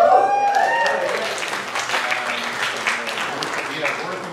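A room at an annual company meeting breaks into a round of applause to honor a colleague, steady clapping sustained throughout with voices mixed in near the start.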